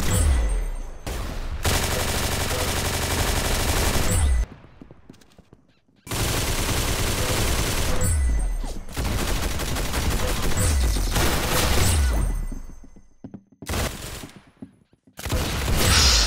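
Dense bursts of rapid gunfire from the Roblox shooter Arsenal roar loudly in long sustained volleys, broken by short silent gaps and a few brief single shots near the end.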